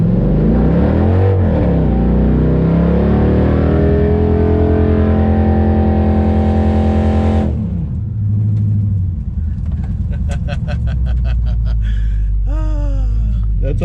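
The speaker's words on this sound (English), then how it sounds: "Figured out we can definitely do a burnout as soon as we turn down limp mode" A 1968 Dodge Charger engine roars at high revs during a burnout, a loud sustained bellow with rising and falling pitch, then dropping to a rough idle rumble with clattering and a brief squeal toward the end.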